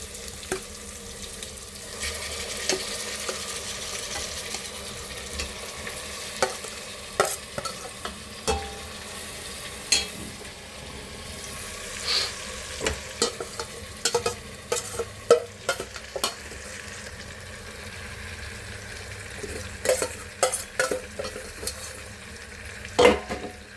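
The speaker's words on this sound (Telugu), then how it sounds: "సో చికెన్ వేసేసుకొని ఇది కూడా కొంచెం మగ్గాలన్నమాట." Chicken pieces fry in hot oil for pulao, with a soft continuous sizzle. Scraping stirs are scattered through it, some sharper and louder than others, and no one talks.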